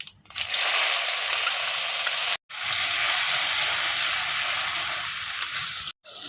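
Chopped onion, cinnamon, cardamom, cloves and whole white cumin hit hot oil, giving a loud, dense sizzle that runs steadily, broken by two brief silent gaps.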